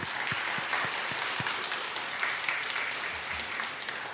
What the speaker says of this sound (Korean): 좀 하나님께 정말 영광의 박수 돌려드리고 있습니다.